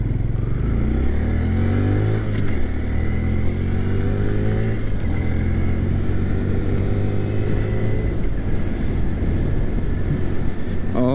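A 2025 Honda Grom motorcycle engine accelerating up a steep back road, a steady loud drone climbing in pitch through gear changes, close and continuous.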